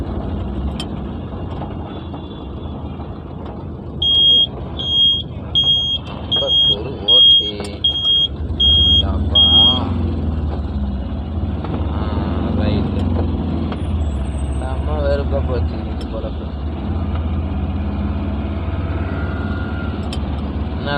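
Busy road traffic surrounds a stopped auto rickshaw: a steady low engine rumble with passing vehicles, a bright electronic beeping that pulses repeatedly for several seconds, and someone talking over it throughout.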